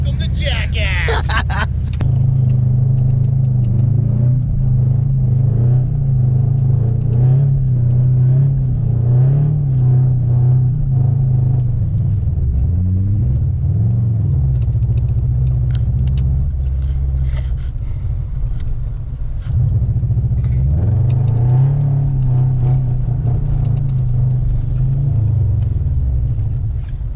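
Car drifting and spinning out at a Christmas drift event, a loud, steady engine rumble with rising and falling revs throughout, with a voice talking over it.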